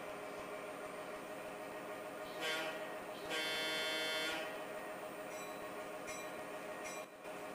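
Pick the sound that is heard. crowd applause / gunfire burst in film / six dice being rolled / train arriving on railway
train arriving on railway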